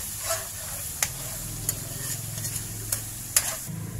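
Latik, coconut curds, stirred in a hot pan with a spoon scraping in short strokes through a steady sizzle and occasional sharp scrapes against the pan, close and moderately loud.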